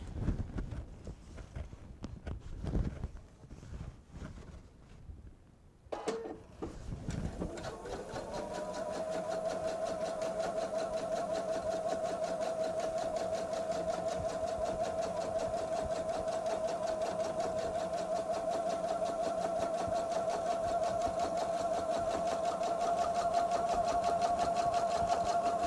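A sewing machine stitching the last seam of a bag, starting after a few handling clicks and then running in a steady, continuous rapid whir with a faint mechanical whine that holds close and even to the end.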